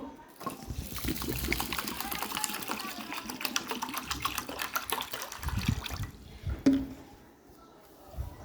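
Water runs and splashes over khesari dal in a bowl being set to soak, a continuous close pouring and trickling that stops abruptly near the end.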